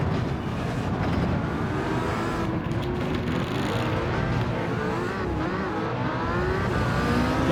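Hypercar engine in Gran Turismo 7 drones continuously at high revs, a loud, sustained racing tone with rising and shifting pitch as the car accelerates.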